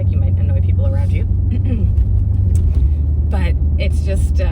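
BMW M8 Competition engine holding a steady low rumble from inside the cabin while driving, its revs sustained beneath someone talking over it.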